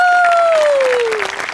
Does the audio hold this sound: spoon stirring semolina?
no